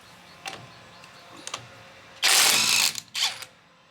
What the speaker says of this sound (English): We're going to try a impact socket of 7/8. Pop another one. We're in reverse.